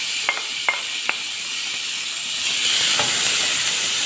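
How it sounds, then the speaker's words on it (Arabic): Onion frying in a spoonful of oil in a pan gives a steady close sizzle and hiss, with a few sharp clicks early on and no talking. "بعد كده بحط البصل وأشوحها تشويحتين"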